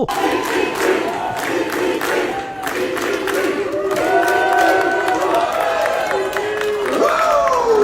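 Basketball fans in an arena cheer and chant for point guard Chris Paul, a loud roaring crowd with whoops and rising shouts that swell toward the end, no pauses.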